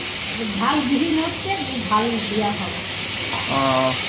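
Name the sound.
chicken frying in a pan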